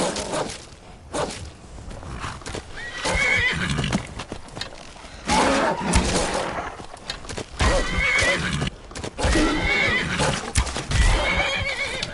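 A horse in Skyrim neighs and whinnies several times while its hooves clop steadily, loud and close throughout.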